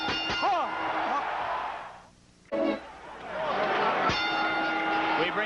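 Boxing ring bell sounding to start round two of a Mike Tyson fight, ringing tones with a sharp strike near the end over the arena crowd and a commentator talking.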